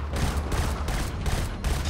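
Rapid bursts of machine gun fire in the video game Killzone: Shadow Fall, several quick volleys in succession, loud and close.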